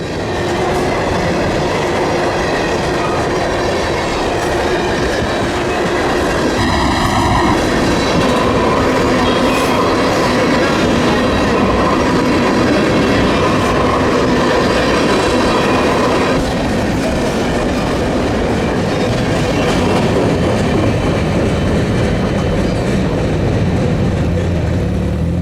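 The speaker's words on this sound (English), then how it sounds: "The first train of the morning is a northbound manifest, making its way to Canada." CN northbound manifest freight train passing, led by an ET40-4AC locomotive: a loud, sustained rumble of rolling freight cars with rhythmic clickety-clack and metallic wheel noise, a brief tonal horn-like sound near the start, no voices.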